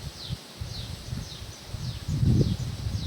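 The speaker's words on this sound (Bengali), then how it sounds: "দেখো ঝোড়ো হাওয়া কেমন দিচ্ছে" Strong gusty wind shakes trees outdoors in Medinipur on a stormy day, a steady low roar swelling in gusts and peaking near the end, with faint repeated bird chirps above it.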